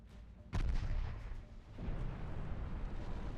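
Heavy warship main guns fire in the naval game Ultimate Admiral Dreadnoughts, a loud booming blast with a rumbling tail, then a second deep concussive roll, alone without voices.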